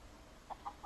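Three quick, soft clucks from battery hens sound in succession over a low background hum.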